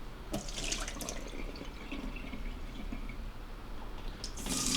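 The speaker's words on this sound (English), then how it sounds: "I'm going to give the beans a rinse as well, just to make sure they've not got any little bits of flies or anything on them like that." Tap water runs steadily over beans being rinsed, a continuous close splashing with brief brighter spatters near the start and end, no voices.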